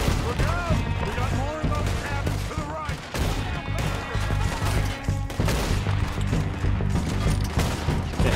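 Rapid gunshots in the Western video game Red Dead Redemption crack out in dense, repeated bursts, volleys of fire and sharp reports spread across several seconds while someone talks over them.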